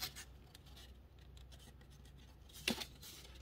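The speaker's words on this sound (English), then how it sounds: "So I decided to cut out these little pieces here to reinforce the corners." Scissors cutting small pieces of paper, quiet scattered snips and rustles ending in one sharper, louder snip, close by with nothing else around.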